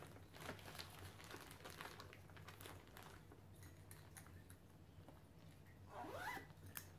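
A zipper on a cross-stitch project bag is pulled, a faint close rasping run with a brisk final zip near the end, alongside light rustling and handling of the fabric.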